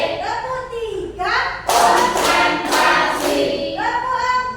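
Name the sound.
class clapping hands in a counted clapping routine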